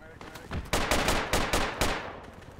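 Suppressive automatic gunfire in the tactical shooter Project Reality during an infantry squad assault on a compound, several loud sustained bursts in close succession with sharp repeated cracks.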